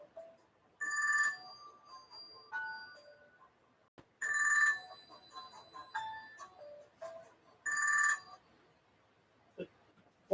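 A cell phone rings in repeated electronic bursts, three loud tonal chimes several seconds apart with quieter melodic notes between them, heard clearly with no talking.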